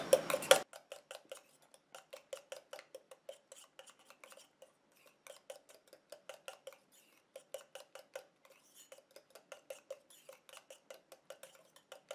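A homemade moisturizing cream is stirred in a small bowl, the utensil tapping and clinking in quick, soft, rhythmic bursts with short pauses.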